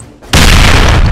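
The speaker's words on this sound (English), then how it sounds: "that was an epic grenade explosion" A grenade goes off in the zombie mode of the shooter game Crossfire, a sudden loud blast after a brief lull that stays as a heavy, sustained roar for the rest of the moment.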